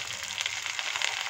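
Chopped banana flower sautéing in a pan for a Kerala-style thoran, a soft continuous sizzle and crackle, close and fairly quiet, with no talking.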